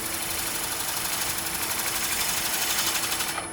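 A wood lathe spins steadily while a turning tool begins a cut on a wooden baseball cap, producing a continuous rapid buzzing chatter, close and even throughout before trailing off at the end.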